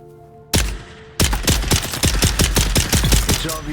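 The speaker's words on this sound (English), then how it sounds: "Let's just see how this gun works." A gun fires in the video game Dune: Awakening, with one loud shot followed by a rapid, sustained burst of automatic fire, punchy and close, with no talk over it.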